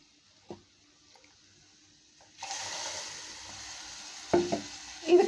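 Water is poured into a pan of ground horse gram for kadayal, starting after a few faint clinks as a steady close hiss and splash that runs to the end, with a clatter of utensils near the finish.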